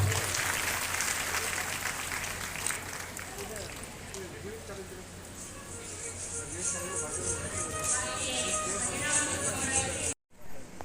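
Loud, sustained applause from an audience at a district government workshop on guarantee schemes in Haveri, steady and dense throughout before cutting off abruptly near the end.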